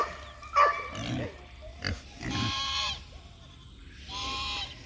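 Nearby feeder pigs on a farm grunt and squeal in a few separate bursts, with quieter gaps between them and no voices.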